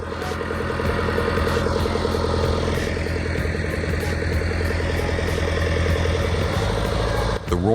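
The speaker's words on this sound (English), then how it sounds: "the roar of an engine begins a breathtaking rescue for two giants trapped in the swamp" A DT-75 tractor engine roaring while stuck in swamp mud, a loud, steady, throbbing drone held without pause, with a brief dip near the end.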